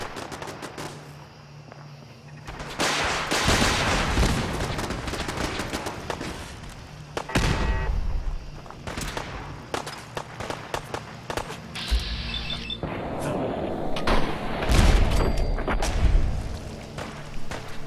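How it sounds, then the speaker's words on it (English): Explosions and rapid gunfire from a missile launcher battle in Fallout 4, loud bursts and booms stacking in dense clusters with echoing rumble between hits, a few footsteps under the chaos. "Is that thing blown up by my missile launcher?"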